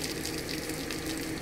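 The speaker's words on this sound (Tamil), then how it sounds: "தண்ணி ஊற்றுங்க" Water being poured, a steady close splashing rush that fills the whole short moment without a break, with no talk.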